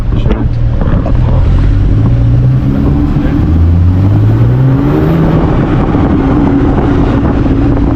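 A Porsche 911 of the 991 generation with a naturally aspirated flat-six engine revs hard inside an underground tunnel, loud and close, pitch climbing and falling through several sweeps with heavy reverberation and wind buffeting for eight seconds.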